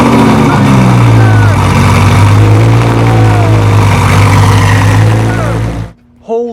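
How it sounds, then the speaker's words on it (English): A straight-piped Audi R8 V10 fires up cold for the first time, a loud, sustained roaring exhaust that holds steady for about six seconds before cutting off abruptly into near silence. "Okay, the loudest exhaust possible for this V10 Audi R8."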